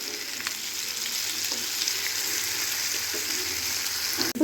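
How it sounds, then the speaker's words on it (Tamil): Anchovies coated in masala fry in a pan, giving a continuous soft crackling sizzle that holds steady throughout, ending with a brief clatter as the pan is handled, with no voices. "இப்போது நல்லா ஃப்ரை ஆகிருக்கு."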